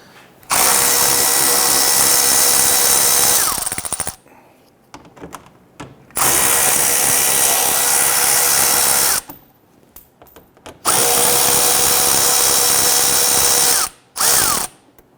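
Power tool driving out the screws that hold a Dodge Charger's fender liner to the air duct with a 7mm socket: three long, loud whirring bursts separated by quiet pauses, plus one short final burst.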